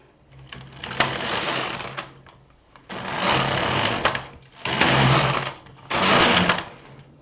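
A knitting machine carriage knits rows using auxiliary yarn for a river stitch with a pattern reader, making four loud mechanical whirring passes, each about a second long, separated by brief pauses.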